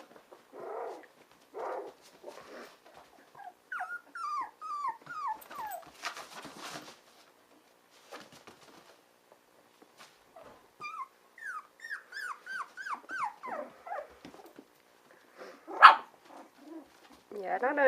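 Two dogs, the adolescent Winty and the older Rue, squabble close by in repeated bursts of sharp barks, yelps and high whining cries, separated by short quiet gaps, with one louder yelp near the end.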